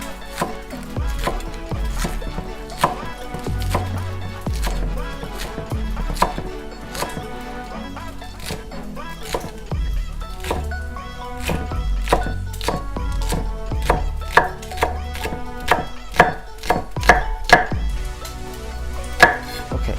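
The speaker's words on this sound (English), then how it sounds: "I like a lot of scallion in my ramen, so we're just gonna basically just do like slices like that." A knife slices scallions on a wooden cutting board for ramen, giving a long series of sharp, close knocks that come in irregular bursts and grow quicker and denser later, with no speaking.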